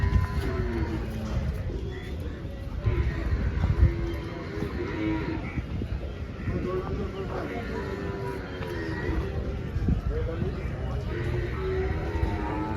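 Water buffaloes mooing at a tethered dairy buffalo market in Dhule, with several low moos rising over a steady crowd murmur and voices throughout, hooves shuffling nearby.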